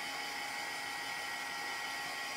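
A dryer blows a steady, even rush of air over a first layer of chalk paste on an apron, continuous and close with no pauses.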